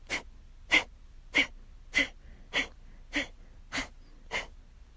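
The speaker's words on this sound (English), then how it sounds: "I'm going to be using the abdominal muscles to sharply exhale the breath out." Eight sharp, forceful exhalations through the nose, driven by the abdominal muscles as a breathing exercise, evenly spaced about once every half second, close and breathy, with no voice.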